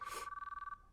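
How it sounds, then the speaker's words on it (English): Electronic phone ring in the visual novel game Chaos;Child, a rapid trilling pulse of about a dozen beats on one clear tone, fading out after under a second, with a soft swell of sound at the start. "The ringing continued."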